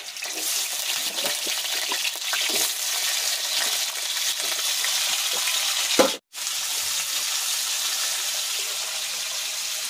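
Potatoes dropped into hot oil and frying, a loud hissing sizzle that stays steady and close, broken by a brief clatter and a sudden cutoff midway before the sizzle resumes.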